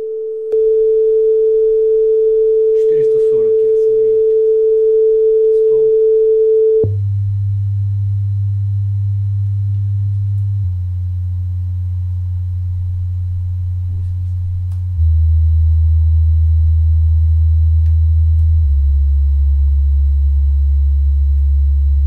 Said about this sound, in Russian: Подключаю генератор синусоидального сигнала и прогоню ряд частот